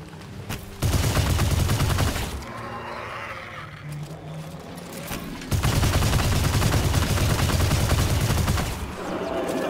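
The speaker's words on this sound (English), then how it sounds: "It is satisfying to gun down enemies." Rapid bursts of gunfire from the video game Immortal: Unchained, loud dense volleys in two long stretches with a quieter, rumbling lull between them and no voices.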